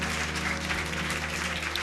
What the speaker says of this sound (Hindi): आइए क्यों ना हम जोरदार यीशु के लिए ताली बजाकर उसकी महिमा करें